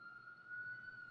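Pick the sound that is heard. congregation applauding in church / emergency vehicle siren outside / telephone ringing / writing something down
emergency vehicle siren outside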